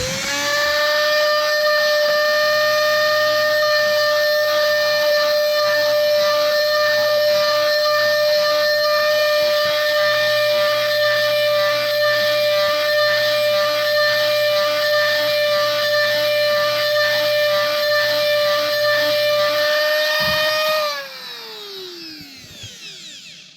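A rotary burr on a high-speed tool grinds a steel spur gear for a Redcat Kaiju RC truck, a loud, steady, pitched whine with a gritty edge that runs for about twenty seconds, then spins down as the tool stops.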